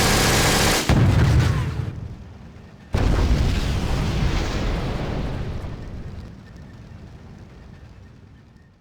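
Explosions and gunfire in a Wargame real-time strategy game as a unit is destroyed: loud booming blasts, a second heavy burst, then a long rumbling decay.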